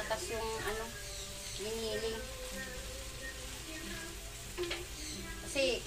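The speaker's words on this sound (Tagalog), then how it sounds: "Gisa-gisahin lang natin ng konti." Potatoes sautéing in a pan, a quiet steady sizzle and crackle running throughout, with someone talking over it and a few clinks of stirring.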